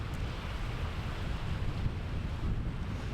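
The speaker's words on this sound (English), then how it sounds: "Sometimes they let the wave crash right over the top of them as they feed on this seaweed" Waves crash against the rocky seaweed shore at Castle Island, Massachusetts, a continuous low rumbling wash of surf heavily buffeted by wind, with no voices.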